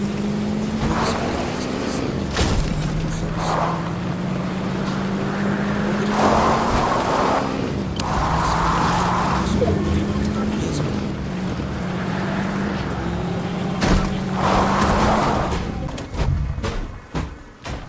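A car in the Fortnite video game drives with a steady engine hum that rises and falls as it accelerates and shifts, under game effects and someone talking in Portuguese.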